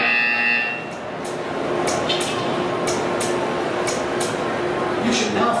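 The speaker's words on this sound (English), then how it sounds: "You will hear a buzzer." A steady electronic buzzer drones loudly through the Portal 2 test chamber in an art-staring puzzle, holding on continuously with a faint tonal hum beneath and brief bright clicks recurring above it.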